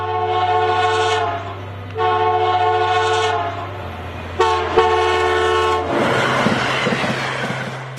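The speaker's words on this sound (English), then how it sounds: "the signal is 2 long, 1 short, and a long blow of the horn" A train horn sounds a signal pattern of long blasts, loud and close, over the steady rumble of the moving train. Near the end the horn fades into rushing rail noise and clatter.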